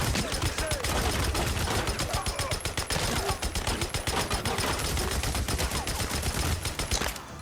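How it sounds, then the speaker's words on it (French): Rapid gunfire in a shooting video game crackles in dense, continuous bursts of sharp shots, loud and close throughout, with a player talking faintly beneath the barrage. "Je tire partout."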